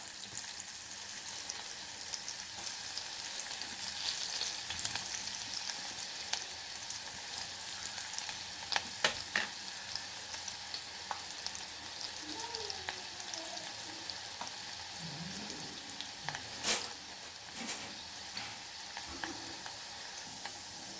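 Curry leaves and chopped onion frying in hot oil with asafoetida and turmeric for Kolhapuri misal, giving a steady soft sizzle throughout with a few sharper crackles and pops near the middle and end.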